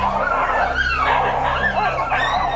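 A dog in an Indigenous community barks and yips loudly and close by, with whimpering, bow-wow sounds and an ongoing noisy background throughout.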